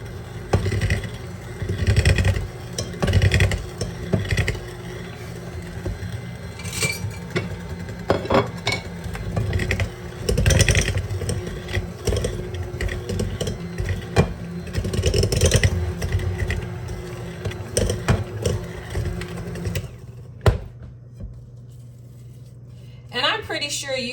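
An electric mixer blends flour, baking soda and salt into oatmeal cookie dough, whirring steadily with rattling bowl clatter and uneven bursts before cutting out near the end.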